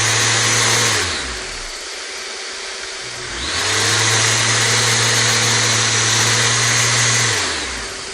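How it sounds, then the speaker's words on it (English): A Festool RO 90 multi-purpose sander spins up in aggressive Rotex mode, a loud steady whine that winds down to a lower hum, then ramps back up and holds before spinning down again near the end. "Now let me go ahead and switch it over to Rotex."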